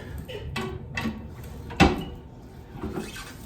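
Cast-iron door of a Dutchwest wood-burning stove swung shut, a single sharp metallic clunk standing out near the middle, with softer handling knocks before and after, close by and fairly quiet.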